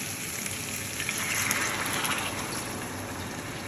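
A small amount of water splashes and gushes into pork kaldereta cooking in a pot, giving a continuous close-up pouring and sizzling hiss with no talking.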